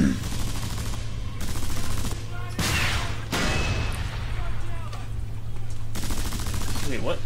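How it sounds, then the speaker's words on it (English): Heavy automatic gunfire in Frontlines: Fuel of War, loud sustained bursts broken by short pauses, several weapons firing at once amid battle noise. "They were shooting at me?"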